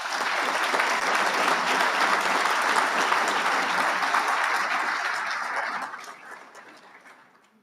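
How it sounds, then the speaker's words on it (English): A large audience at a Marine Corps Association awards dinner applauds an honoree, a loud, dense, sustained roar of clapping that holds steady and then fades out over the final seconds. "Ladies and gentlemen, a round of applause for Major Bowman."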